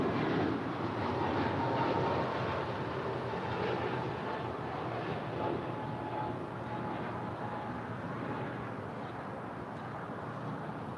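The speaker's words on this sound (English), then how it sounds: "This is Virgin Atlantic. 8 Foxtrot headed back to London Heathrow, the 787-9 Dreamliner." Virgin Atlantic Boeing 787-9 Dreamliner pushing back at LAX for London Heathrow, a continuous moderate engine rumble and hiss with a faint steady whine, slowly easing in level, heard alone without voices.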